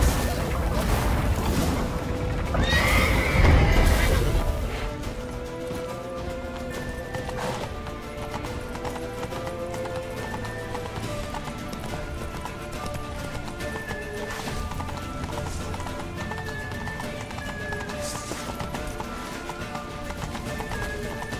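Rhythmic clip-clop of a horse's hooves pounding at a gallop over game music in The Witcher 3, with a loud crashing burst early on and no talk.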